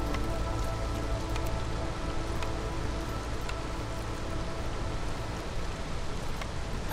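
Steady rain pours during a storm in the strategy game Against the Storm, a dense continuous patter of drops with scattered sharper ticks, even and fairly loud throughout with no voices.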